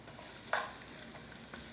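Onions frying in a pan, a steady soft sizzle with a brief scrape or stir near the start and faint clinks, close and continuous without speech.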